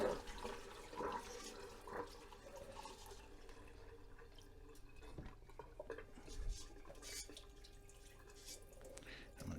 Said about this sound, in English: Get rid of this tap water now